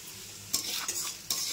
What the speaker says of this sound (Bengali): এইদিকে আমি চালটা ভাজছি